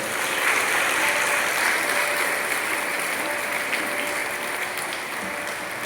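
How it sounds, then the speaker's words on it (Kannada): A crowd claps steadily throughout, a dense, even wash of applause that holds at a constant level before easing slightly near the end. "ಜೋರಾಗಿ ಚಪ್ಪಾಳೆ ಮಾಡೋದು"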